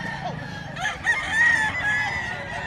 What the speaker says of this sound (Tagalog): Dami manok ngayon dito sa Bukawi.